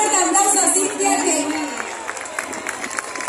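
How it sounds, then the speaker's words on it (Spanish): A crowd applauds and cheers for the winner of a house giveaway, bursts of clapping and shouts rising under a loud announcer's voice, then settling into scattered claps. "un fuerte aplauso a Cintia"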